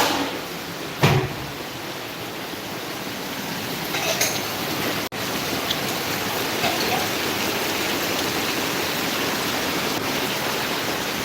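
Monsoon rain falls as a steady, dense hiss throughout, with a few brief knocks and clicks near the start and a faint sharp tap midway, with no voices.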